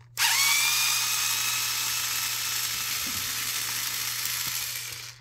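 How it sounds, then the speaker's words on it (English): A small cordless drill whirs steadily while dismantling a Disney Hannah Montana Telecaster guitar, starting abruptly and running at a high, even whine for about five seconds before stopping, with a faint mechanical hum beneath. "I'm glad my little drill was charged up."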